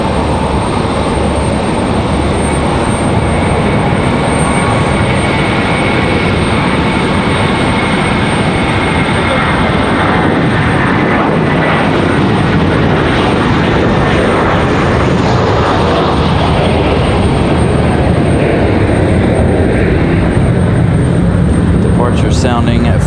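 An Airbus A321 jet airliner roars loudly and continuously at Raleigh Durham airport, a broad sustained engine rumble with whining tones that builds and shifts over the stretch, close and dominant.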